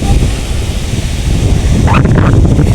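Steady roar of sea surf at Elathur beach in Kerala mixed with heavy wind buffeting, continuous and fairly loud, with a brief rush of breaking water near the end.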